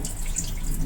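Water drains off soaked rice and lentil grains for Ahmedabad-style handvo, a steady close splashing trickle like a running tap, continuous for under a second with no talking.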